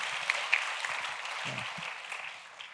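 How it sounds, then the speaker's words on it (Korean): Congregation applause at a church summer retreat lecture, steady broadband clapping from a crowd for under three seconds, moderately faint and even, with a few louder claps near the start. "박수 한번 쳐줍시다."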